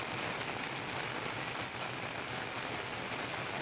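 Heavy monsoon downpour floods the roads around a village bus stand in Gujarat's Saurashtra region, a dense, unbroken hiss of rain hammering the surfaces, loud and constant with no voices.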